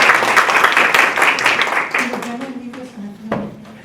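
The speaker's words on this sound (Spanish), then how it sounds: "Le damos un aplauso." An audience breaks into applause, with a dense burst of clapping that fades after about two seconds, followed by a voice speaking.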